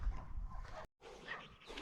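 Dogs bark faintly at a distance across open Lithuanian countryside in spring, with low rumbling background noise and a brief dropout in the middle.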